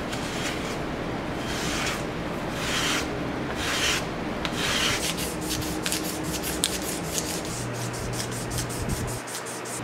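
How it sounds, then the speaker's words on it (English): A wooden knife handle scale is rubbed flat on sandpaper stuck to a granite tile. The close, gritty scrubbing comes in long strokes that give way to quicker, shorter passes, with a low hum in the background and no voices. "I'm just going to flatten it on this piece of sandpaper stuck to a granite tile"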